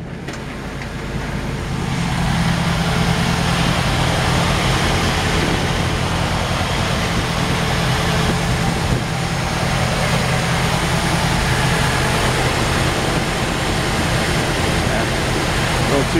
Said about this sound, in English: idle may just be a touch high, but it's running awesome